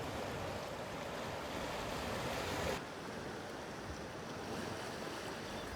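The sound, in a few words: waves at a Pembrokeshire beach with the tide in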